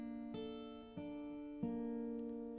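Acoustic guitar playing three plucked notes on the fifth and fourth strings, each sharp attack followed by a ringing sustain, the notes evenly spaced and heard close and alone.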